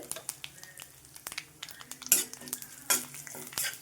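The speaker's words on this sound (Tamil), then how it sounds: "மூணு காஞ்ச மிளகாய் கிள்ளி போட்டுக்கோங்க கொஞ்சம் கருவேப்பிலை பெருங்காயத்தூள் போட்டுட்டு" Dried red chillies, curry leaves and asafoetida crackle and sizzle in hot oil as a tempering for mor kuzhambu, with steady stirring scrapes and a couple of sharper spatters rising above the frying.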